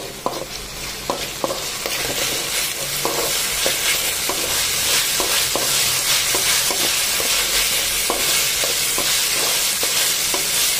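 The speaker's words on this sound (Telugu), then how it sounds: "ఇందులోకి తీసి పెట్టుకున్న క్యారెట్ వేసి దీన్ని ఒకసారి బాగా ఫ్రై చేసుకుందాం" Carrots stir-fried in a pan, a close, loud constant sizzle broken by repeated clicks and scrapes of a spatula against the metal.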